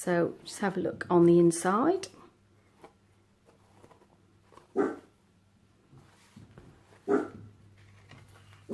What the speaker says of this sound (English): Sorry if you can hear my dog barking in the background.